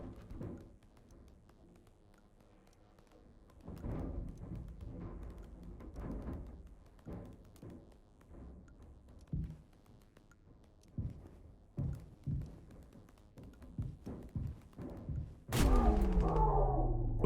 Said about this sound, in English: Thumping sounds pound out in the vent as he manages to crawl the rest of the way through